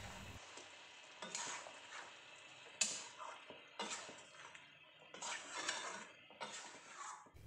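Chicken coated in masala paste being stirred in a frying pan: quiet, close scraping strokes in irregular bursts with a soft sizzle underneath.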